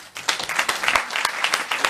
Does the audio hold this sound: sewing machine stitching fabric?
no